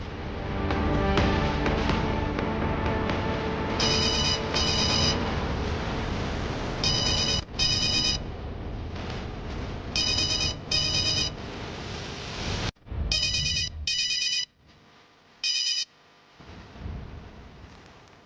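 A telephone rings repeatedly during an outgoing call, bright electronic ring bursts in pairs, first under dramatic background music and then nearly alone as the music drops away.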